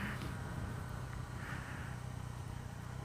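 Yamaha FZ09 motorcycle with a Yoshimura exhaust shifting through gears on a quickshifter at low RPM and light throttle; a steady mid-pitched engine drone runs throughout, with faint pops and a brief lurch between gears.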